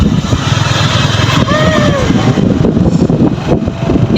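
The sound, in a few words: motorbike riding alongside during a race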